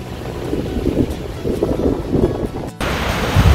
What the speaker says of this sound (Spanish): con este viento importante en la laguna de San Vicente